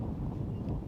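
A big gust of wind buffets the microphone at an outdoor T10 cricket ground in Czechia, a dense low rumble that stays loud and steady for the short moment, with no talk.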